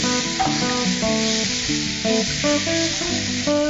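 A tomato goes into a hot pan and sizzles, a steady bright hiss running close and loud beneath a melodic tonal background.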